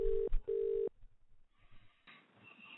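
A telephone rings with two long electronic tones separated by a short gap before a call connects, followed by faint line noise and clicks.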